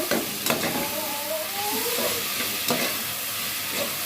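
Onions and tomatoes sauté in a little oil, a dense, close sizzle with a few sharp scrapes of a stirring spoon and no talking.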